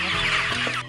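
Chickens in a poultry farm at feeding time: a brief burst of loud, close clucking from several hens overlapping at once.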